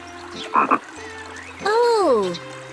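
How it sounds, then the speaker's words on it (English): Frog croak on a children's phonics story recording, a cartoonish rising-then-falling croak near the end, preceded by short squeaky sounds and soft background tones, no speech over it. "Oh, a frog."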